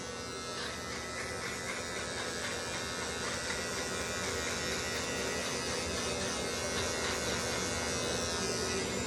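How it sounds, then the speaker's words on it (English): Steady, unbroken buzz of an electric razor running over a whole face, close and moderately loud, with a slight grinding texture as it moves across stubble and no break in the motor drone. "I need to watch me shave my whole face"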